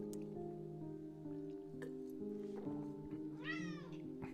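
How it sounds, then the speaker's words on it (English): A single cat meow rises and falls near the end, fairly faint, over a bed of steady music tones with a few soft squishy drips. "Yes, meow meow."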